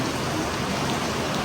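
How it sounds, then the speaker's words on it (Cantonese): Heavy water dripping and splashing inside Ryusendo limestone cave in Iwate, Japan, a dense continuous rain-like patter filling the space at steady moderate level, with no voices. "因為呢度滴水好犀利"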